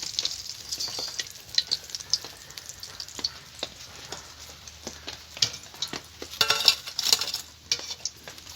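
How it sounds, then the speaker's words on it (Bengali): Lote fish fingers fry in a pan with a steady broadband sizzle, while utensils stir, scrape and clink against the cookware in irregular, fairly close bursts; no one speaks. "দেখুন আমি লাল লাল করে ফিঙ্গারগুলোকে ভেজে নেব"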